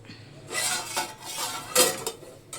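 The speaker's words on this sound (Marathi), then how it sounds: "भांडे घासते" Pots and dishes being scrubbed and washed, with metal clattering and clinking in several sharp bursts and scraping between them, close by and fairly loud, with no talk.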